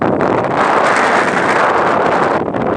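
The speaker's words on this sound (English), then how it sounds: "It is the evening time and now much of wind is blowing now." Strong evening wind buffets an outdoor microphone, a loud continuous rushing roar with no break throughout.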